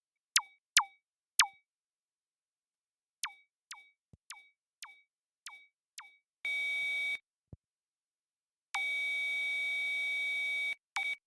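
Electronic synth tones from a synthesizer built from a glass bowl: a series of sharp descending chirps in irregular rhythm, then sustained buzzy held notes cut off abruptly, with a brief low sweep between.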